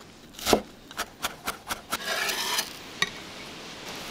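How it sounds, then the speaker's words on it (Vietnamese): A knife minces shallot on a cutting board in a home kitchen, giving a string of crisp, close taps and rasping scrapes, roughly evenly spaced, followed by a short stretch of softer scraping. "Xắt củ hành tím ra và băm nhỏ ra"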